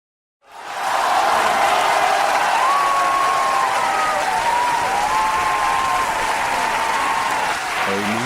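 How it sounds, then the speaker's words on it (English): A large courtroom crowd bursts into sustained loud applause and cheering, a steady roar of clapping with voices rising above it. "Everyone is cheering at me."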